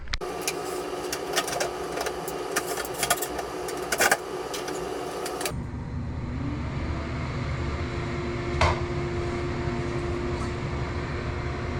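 A bathroom exhaust fan running on a newly replaced motor, heard as a steady, close mechanical whir and hum that shifts to a lower, smoother drone partway through, with a brief knock along the way.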